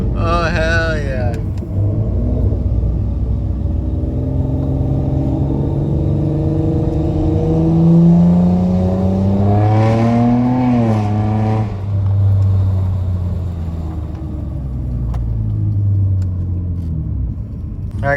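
A 7th-generation Nissan Maxima fitted with a Gemini Performance Y-pipe exhaust revs up, its engine note rising and falling through a couple of swells over a steady idle rumble, with a voice speaking over it.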